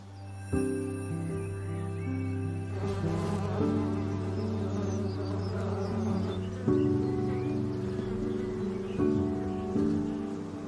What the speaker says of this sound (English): I can hear it buzzing already with bees and other insects